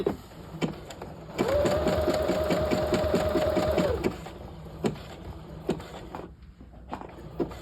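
A sewing machine stitches a welt pocket on a half-scale jacket, with one sustained run of rapid, even stitching in the middle, bracketed by a few short bursts and clicks as the fabric is pivoted.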